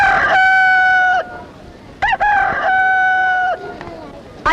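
A rooster crows loudly and close in drawn-out calls, the crows separated by short clucks and ending on another crow.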